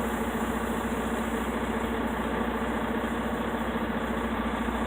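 A truck engine idles and rolls forward as the clutch is eased off during an air brake test, a steady, loud, close rumble with an even throb and no talk.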